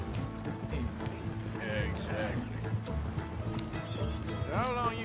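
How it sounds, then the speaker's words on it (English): Horses pull a coach in Red Dead Redemption 2, their hooves clip-clopping steadily throughout while people talk over the rolling hoofbeats. "Slow down. You'll burn out the horses."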